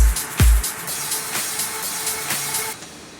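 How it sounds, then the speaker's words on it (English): A white noise riser in an electronic dance track, a bright hissing wash pulsing in rhythmic swells after a deep thump near the start, then cutting away just before the end. "white noise"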